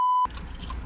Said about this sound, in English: So the beeping, excellent design feature.